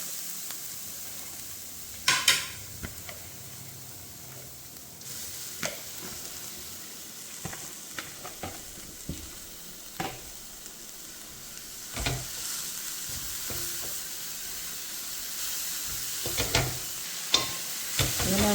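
Grated coconut and nettle leaves frying in a pan give a steady hissing sizzle, broken by scattered clinks and scrapes of a spoon stirring at irregular intervals.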